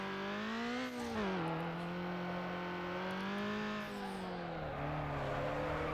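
A car in the video game Need for Speed Underground holds a long drift, its engine droning at high revs with the pitch dipping and rising through the slide, a continuous loud whine with no speech over it.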